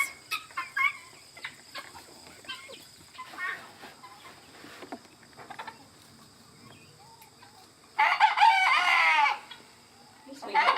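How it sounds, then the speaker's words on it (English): Backyard pet chickens cluck intermittently at a distance on an organic farm in Galway, New York, then a loud rooster crow rings out near the end, with crickets faintly in the background. "our chickens are our pets"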